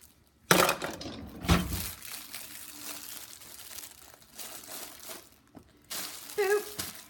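A plastic bread bag crinkling as it is cut open with scissors in a kitchen while making grilled cheese: sharp, close crackly rustles in several bursts separated by quieter handling noises, with a voice near the end.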